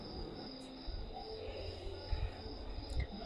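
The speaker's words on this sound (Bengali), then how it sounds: "ঝিঝির ডাক ছাড়া আর কিছুই শোনা যাচ্ছে না" Crickets chirp at night in Lingtham village, a steady high-pitched drone that runs unbroken through the whole clip, with faint low rumbles beneath it.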